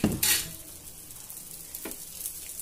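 Crispy masala dosa cooking on a pan as oil is poured over it, with a sharp burst of sizzling at the start, then a softer steady fry with a brief scrape, close by.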